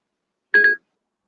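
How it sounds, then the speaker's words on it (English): A mobile phone gives a single short electronic beep, a quick two-part tone lasting about a quarter second, loud and close against otherwise silent surroundings. "My bad, that's my phone."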